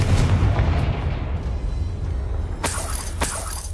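A Confringo spell blast in Hogwarts Legacy on PS5, heavy low rumbling booms rolling under the game's ambience, with a couple of sharp bright cracks near the end.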